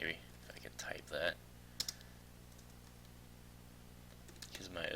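Typing on a computer keyboard: a few short bursts of close, crisp key clicks with quiet gaps between them, over a faint steady hum.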